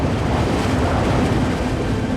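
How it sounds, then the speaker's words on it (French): Strong gusts over a volcanic dome in Guadeloupe, above fumaroles, making a steady loud roar of wind buffeting the microphone, continuous and unbroken. "Les rafales de vent soufflent à plus de 100 km/h."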